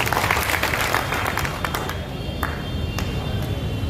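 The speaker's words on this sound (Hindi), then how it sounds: "और उनके लिए भी जोरदार तालियां" Sustained crowd applause at a youth political gathering in Samastipur for the last-placed election candidate, steady dense clapping throughout with scattered sharper claps standing out near the end.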